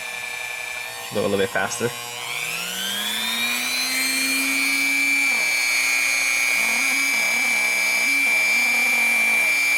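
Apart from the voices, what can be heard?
buffing and polishing a scratched watch case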